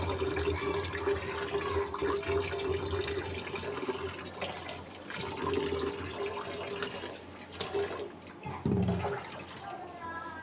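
Pointed gourd and eggplant are rinsed in a kitchen, with running water splashing and sloshing steadily throughout and a brief louder splash near the end; low-level noises sit under the water.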